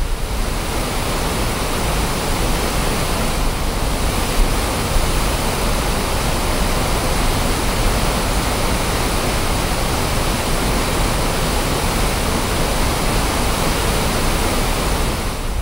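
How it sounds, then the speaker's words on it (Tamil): A flooded waterfall in the Western Ghats near Srivilliputhur, Shenbagathoppu, rushes after heavy rain. A loud, dense, continuous roar of falling water holds steady throughout, with no voices. "மேற்கு தொடர்ச்சி மலைப்பகுதியில் கொட்டி தீர்க்கும் கனமழையால் ஸ்ரீவில்லிபுத்தூர், செண்பகத்தோப்பு பகுதியில் வெள்ளப்பெருக்கு."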